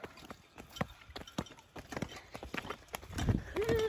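Horse hooves clip-clopping at a gallop, a run of uneven thuds with background noise, and a brief whinny-like tone near the end.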